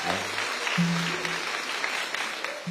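An audience applauds performers at a stage play, a steady patter of many hands clapping throughout, with a low sustained tone briefly sounding beneath it.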